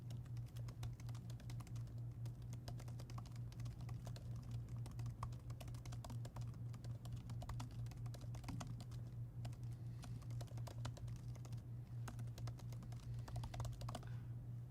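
Steady, rapid typing on a computer keyboard, a continuous patter of soft key clicks over a low hum, with no talking.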